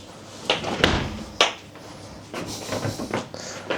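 A drawer in a hotel room in Saranda, Albania, is pushed shut, giving a few sharp knocks and thuds at close range among light handling noises, with no talk.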